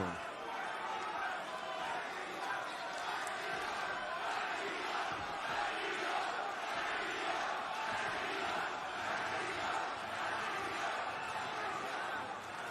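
Wrestling arena crowd at a Ring of Honor Supercard of Honor match between Bandido and Jonathan Gresham, a steady, dense roar of cheering and chanting filling the hall, with a commentator's voice talking over it throughout.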